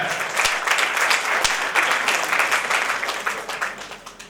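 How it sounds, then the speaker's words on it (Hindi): Sustained applause from an audience at an inauguration ceremony, dense and steady clapping that continues for several seconds. "एक बेर करतल ध्वनि हुए"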